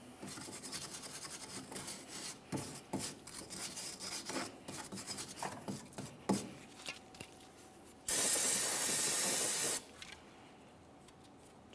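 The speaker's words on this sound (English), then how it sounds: "We'll start in this area using our wire brush and some parts cleaner." Wire brush scrubbing the rear wheel hub mounting area of a 2008-2017 Mitsubishi Lancer, uneven close rasping strokes, followed by a loud hissing burst of parts cleaner spray lasting about two seconds, then quiet.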